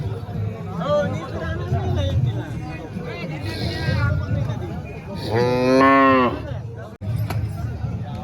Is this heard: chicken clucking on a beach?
no